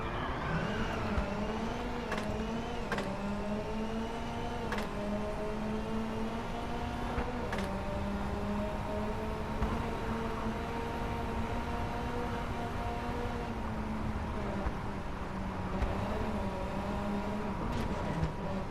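Ford Fiesta WRC rally car on the reverse Freisen tarmac stage in WRC 9, its engine held at full throttle with a steady high rev drone, harmonics rising and falling slightly through gear changes, loud and continuous throughout with no talking.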